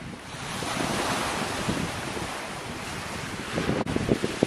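Wind and surf on the beach at Selsey during a fishing session: a continuous rushing roar of waves and gusty wind buffeting the microphone, loud and steady, with a few sharper knocks near the end.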